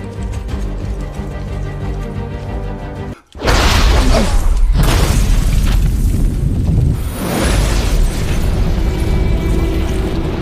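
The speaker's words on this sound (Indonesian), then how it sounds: "nyatanya rumah itu kosong dengan bom meledak di dalamnya" Bomb exploding inside a house: after a steady loud background, a sudden sharp cutoff gives way to a heavy roaring blast that keeps rumbling and crackling loudly for several seconds.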